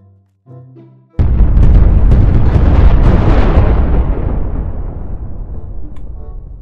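A massive grenade blast in WorldBox: a few faint pops, then a loud close explosion erupting into a long rumbling roar with crackling bursts that slowly fades over several seconds.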